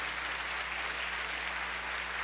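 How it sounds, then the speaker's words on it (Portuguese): A church congregation gives a steady round of applause at moderate volume, an even wash of clapping with no breaks. "Dá uma salva de palmas bem forte para Jesus"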